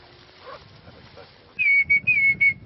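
Hunters' whistles imitating bird calls over a bay at dawn, Baie d'Authie, several short loud piercing whistle bursts in quick succession after a stretch of quiet murmuring background.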